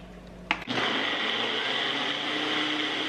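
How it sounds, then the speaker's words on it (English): A very loud air-jet-style blender starts up after a brief click and runs steadily, a dense whirring roar that stays constant and close for the rest of the clip with no talking. "in my like air jet of a blender, it's so ridiculously loud, it's gonna blend up nice and smooth"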